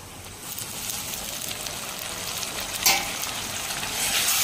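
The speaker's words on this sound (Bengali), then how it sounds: "পেঁয়াজ ভাজা হয়ে গেলে দিয়ে দিব রসুন আদা বাটা।" Ginger-garlic paste frying with onions in a pan, a continuous close sizzle with a sharp stir or clatter partway through, no voices.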